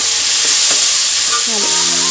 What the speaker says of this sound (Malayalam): നന്നായിട്ടൊന്ന് ഇളക്കി കൊടുക്കാം.